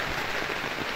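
Heavy rain pours steadily at a foggy campsite in Cavite, a dense, close, unbroken hiss of drops hitting surfaces with no voices over it.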